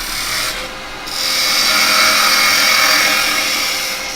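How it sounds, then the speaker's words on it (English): Wood spinning on a lathe is shaved with a 9mm carbide tool, giving a continuous loud rasping scrape with a brief quieter break before the cut resumes and holds steady. "Just using a 9mm carbide."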